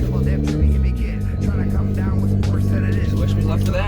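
A turbocharged Volkswagen Jetta rolls up to a store, its engine giving a steady low drone with a few shifts in pitch as it slows.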